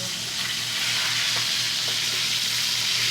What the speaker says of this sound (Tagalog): Piniprito nila yung chicken bago siya lulutuin kasama ng mga ingredients.